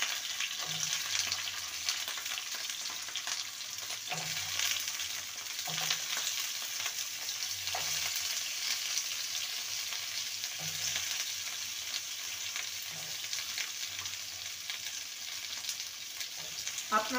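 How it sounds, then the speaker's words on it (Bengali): Broad beans and radish frying in a pan for moong dal give a steady, even sizzle throughout, broken by soft periodic knocks of stirring. "এটাকে ভেজে নেব।"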